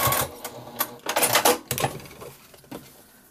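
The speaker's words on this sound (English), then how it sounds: "back stitch, and sew across. And do another little back stitch." A sewing machine back-stitches and then sews across fabric while a child's drawstring backpack is made. Short, close bursts of rapid stitching start and stop several times, with no voices.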